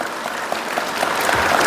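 Applause from a crowd at a political speech in Tripura, a steady wash of clapping from many hands that thickens slightly toward the end, with no voices over it.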